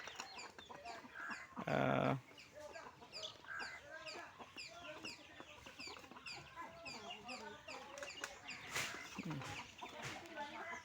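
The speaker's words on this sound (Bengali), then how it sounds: "মোটামুটি অনেকগুলো মুরগি।" Free-range native chickens cluck and chatter all around a rural homestead farm on Shahpuri Dwip, Bangladesh. Close calls overlap continuously, with one loud squawking burst near the start.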